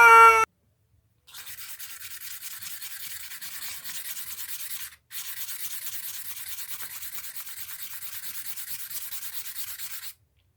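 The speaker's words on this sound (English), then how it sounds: "So I'm going to take this and start the first polishing right now." Sandpaper rubs on a fossil bone in two long, steady stretches of close scratchy polishing, broken by a short pause. Brief talk comes before it.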